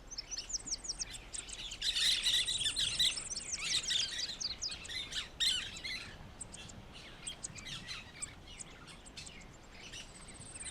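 Many birds chirp and tweet across a reserve on the Cayos Blancos islands of Cuba, a dense, busy chorus of overlapping calls with some squawks and a faint insect hum beneath.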